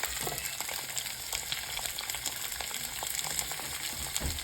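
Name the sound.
onions frying in oil with mustard seeds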